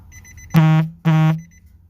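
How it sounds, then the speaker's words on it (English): Electronic alarm sounding two loud, sustained tonal beeps about half a second apart, each a rich buzzy tone that rings briefly and cuts off, with quiet background between. "I know that beeping is probably driving somebody crazy"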